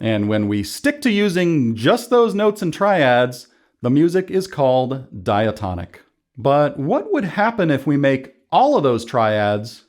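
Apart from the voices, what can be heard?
No everyday noises stand out.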